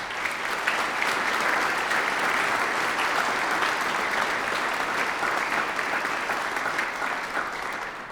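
Sustained, dense applause fills a hall as an audience claps for a colleague at a state honor band concert, steady and loud throughout with no talking over it.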